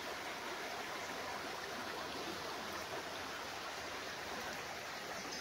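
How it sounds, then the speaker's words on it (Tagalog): Clear stream flowing continuously on a farm lot in Liliw, Laguna, a steady broadband rush and burble of running water with no pauses. "Malinaw po ang tubig. At tuloy-tuloy po ang agos niyan."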